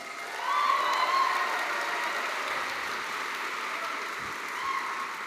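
An audience applauds at a graduation ceremony at the Melbourne Recital Centre. The clapping is a steady, dense wash that holds at the same level throughout, and no one speaks over it.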